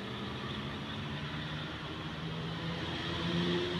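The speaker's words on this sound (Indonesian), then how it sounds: "Terdengar suara raungan mesin sangat keras sekali di sana." A large bus engine roars steadily and loudly nearby while overtaking on a sharp bend at Sitinjau, Tasikmalaya, a deep rumbling drone that swells slightly louder toward the end.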